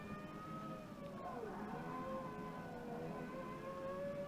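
A racing car in the Forza video game holds a steady, rising engine note through a corner, with gear-like pitch sweeps around the middle and a continuous, fairly loud drone throughout, with no voice over it.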